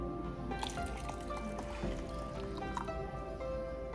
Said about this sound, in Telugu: సో నేను కోల్డ్ వాటర్ ఒక 2 కప్స్ వేసుకుంటున్నాను.